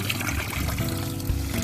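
Water runs steadily into a tub for washing sheep's fleece, a continuous close trickling and gushing flow with no break.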